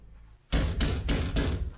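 Heavy fists pound a locked door in a Turkish TV drama scene, with four or five loud, evenly spaced knocks after a moment of quiet.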